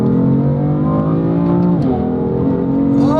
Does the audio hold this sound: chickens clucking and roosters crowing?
no